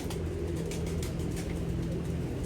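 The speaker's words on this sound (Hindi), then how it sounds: "ये दोस्तों 41 नंबर कबूतर है।" A pigeon numbered 41 coos softly in a loft, low repeated murmurs close by over a constant steady background hum, with no voices.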